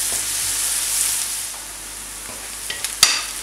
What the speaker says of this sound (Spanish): Ya está refrito el puerro y los dientes de ajo.